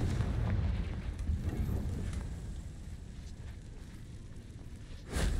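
Fire-spell blasts in Hogwarts Legacy, a low rumbling burst that fades into crackling roar, then a sharp new blast near the end, loud and close with no speech.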